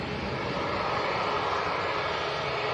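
A jet airliner taking off from Manchester Airport on the Belfast flight produces a steady, loud engine roar with a dense low rumble, unbroken and without talk.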